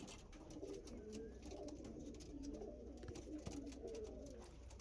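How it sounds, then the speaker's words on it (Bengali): Andhra Lambadi pigeons in a loft coo softly and repeatedly, low rolling calls at moderate distance over a faint background hiss, with no one speaking. "অরিজিনাল আন্ধ্রার লাম্বাডি পায়রা"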